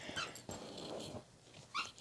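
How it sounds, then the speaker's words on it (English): Playful dog whimpering and letting out low growls indoors, with short yips and rustling scuffles, fairly close and moderately quiet, its noises coming in uneven bursts. "I am sorry for the background noise. I have a dog who keeps trying to play with me."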